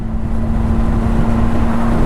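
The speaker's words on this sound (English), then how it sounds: "When you got a bike that sounds like this" A loud, steady four-cylinder Honda CBR600RR sport motorcycle engine hum with a smooth, constant drone, close by, holding an even pitch throughout.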